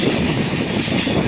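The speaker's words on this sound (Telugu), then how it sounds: "మనం ఇప్పుడైతే ఢిల్లీకి బయలుదేరి వెళ్తున్నాం ఈ ట్రైన్లో." A passenger train bound for Delhi runs steadily, heard from on board, with a loud continuous rumble, a high wheel squeal and rhythmic clatter throughout.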